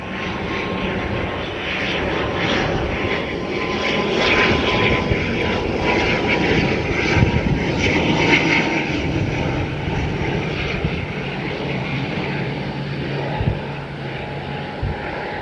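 A Loganair propeller airliner arrives at Aberdeen Airport, its steady droning engine and propeller roar filling the air at a constant, fairly close level throughout, with no talk over it.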